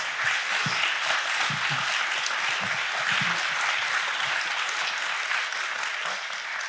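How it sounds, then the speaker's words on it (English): A steady round of audience applause for fathers at a parenting talk, dense continuous clapping from a crowd, even in loudness throughout with faint voices underneath. "Guys, let's give these fathers a round of applause."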